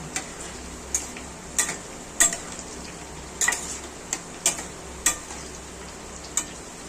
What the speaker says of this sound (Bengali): আলুটাকে হচ্ছে লাল লাল করে ভাজা করে নেব